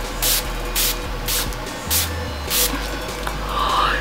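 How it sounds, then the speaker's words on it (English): Several short bursts of Urban Decay De-Slick setting mist sprayed over the face, sharp hissy pumps spaced about half a second apart, close and fairly loud. "I'm gonna go into the Urban Decay D-Slick Setting Mist, and I'm just gonna apply it all over"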